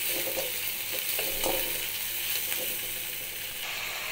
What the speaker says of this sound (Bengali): পেঁয়াজ আদা রসুন ভালোভাবে কষিয়ে নিলাম হলুদ আর কাশ্মীরি লঙ্কার গুঁড়ো দিয়ে